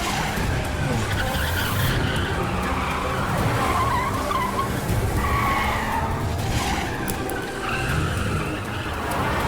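Car driving fast in a chase with tires skidding and squealing, a continuous loud roar of engine and screeching rubber throughout, close and intense.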